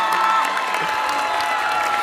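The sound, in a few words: audience applause at graduation ceremony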